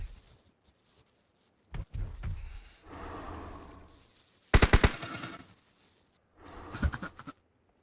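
Gunfire in a shooting video game, with a quick burst of sharp, loud automatic shots in the middle and scattered muffled thumps and rumbles before and after.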